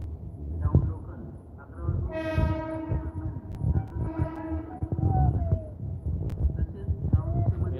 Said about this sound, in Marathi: लोकल जा रहा है मुंबई का ये